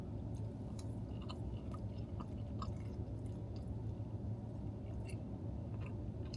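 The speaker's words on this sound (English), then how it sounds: "let's try some of this Euro meat with the rice" Close, faint chewing of gyro meat with rice from Halal Guys, soft steady mouth sounds over a constant low background hum, with no speech.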